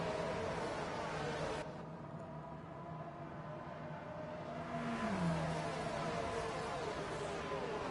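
Racing car engines in an F1 video game at the Miami circuit, a steady broadband roar of engines running continuously throughout with a rising pitch sweep partway through as cars accelerate on a lap.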